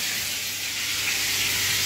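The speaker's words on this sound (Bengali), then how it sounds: "এই যে ভাজতে দিয়েছি পমফ্রেট মাছটা" Pomfret fish frying in a pan, a steady close hiss and sizzle of hot oil holding evenly for about two seconds, with no voices.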